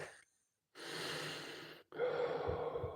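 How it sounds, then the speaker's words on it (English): A slow, audible breath is drawn in and then let out, one long inhale followed by a longer exhale, close to the microphone and heard alone with no talking. "Breathing."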